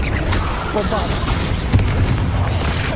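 The Bombarda explosion spell in the Hogwarts Legacy video game produces a dense, loud, rumbling blast that stays steady for the whole stretch with a slight surge midway, while a voice speaks over the din.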